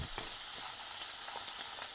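Pork belly pieces sizzle steadily in hot oil, being briefly fried for a salted-fish pork belly clay pot, with a dense, continuous crackle and a few sharper pops close by.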